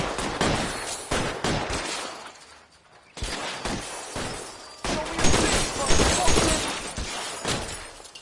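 Gunfire in L.A. Noire comes as loud, sharp volleys of shots with crashing impacts, in dense clusters broken by a short lull, with voices shouting in between.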